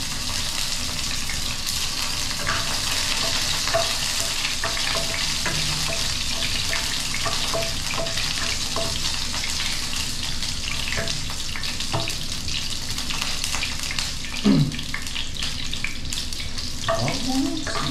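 Garlic sizzling in hot cooking oil with a steady, loud frying hiss that fills the whole stretch, broken by occasional stirring clinks and a brief low scrape near the end.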